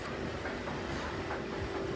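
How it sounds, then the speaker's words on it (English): A train to Amsterdam pulling out of a European station, a continuous rumbling rail noise with a faint steady whine and soft rhythmic clatter, moderately near and unbroken, no voices. "Our train is leaving, like, now to Amsterdam."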